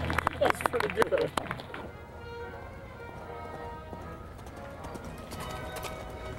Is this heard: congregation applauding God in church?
no